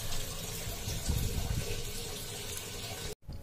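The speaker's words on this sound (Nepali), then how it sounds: "पानी गइरहेछ भित्र, हेर्नुहोस् पानी त जम्मा हुँदैछ" Steady water gushing into the tub of an LG top-loading washing machine, a continuous broadband rush that runs unbroken until it cuts off abruptly near the end.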